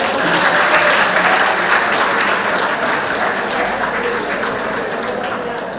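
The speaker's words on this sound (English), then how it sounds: "give yourselves a round of applause" Sustained applause from an audience at a monthly club meeting in Trinidad, dense steady clapping filling the whole stretch and easing slightly toward the end.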